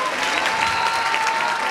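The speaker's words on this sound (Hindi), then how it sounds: "हमें जोरदार तालियां सबा आजाद के लिए" Loud, dense applause from a crowd at a Shaheen Bagh protest gathering, greeting actress Saba Azad, steady throughout with no let-up.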